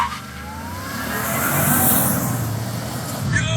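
A modified Cadillac Escalade fitted with C7 Z06 parts launches hard in four-wheel drive, its engine roaring close and loud as the pitch climbs steadily through the acceleration run.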